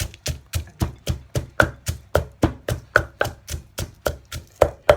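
Rhythmic pounding of a pestle in a mortar crushing herbs, about three dull thuds a second, steady and close, with no voices.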